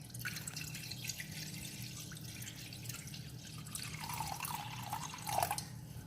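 Water runs from a tap into a pot for boiling while cooking Punjabi-style butter chicken, a soft continuous trickling stream with drippy splashes, fairly faint and with no talking.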